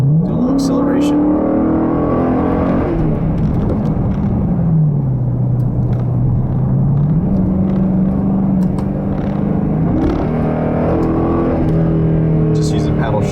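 A Dodge Challenger R/T accelerates hard, its engine note climbing and dropping through several paddle-shifted gear changes, a loud, close, continuous rumble throughout.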